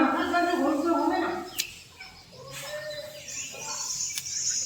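Chickens and pigeons at a rural home in Bangladesh give soft calls and clucks, faint and intermittent, while a person talks nearby over the bird sounds.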